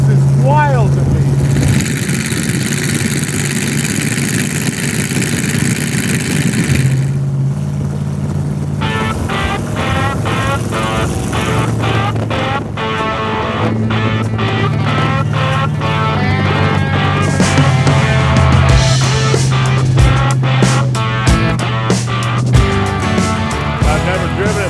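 A WW2 aviation-inspired Willys Jeep hot rod cruises in California heat, its engine a steady close drone that runs throughout and is layered with other tonal sounds.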